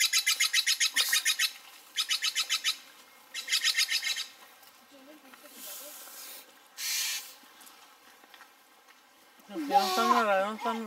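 Pet bird calling indoors, repeated rapid chirping trills in three clear bursts followed by quieter squawks, then a person speaks briefly at the end.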